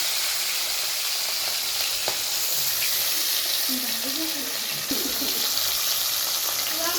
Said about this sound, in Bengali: এবার আস্তে আস্তে মাছগুলো দিয়ে দেবে এই যে মা এখন মাছগুলো দিয়ে দিচ্ছে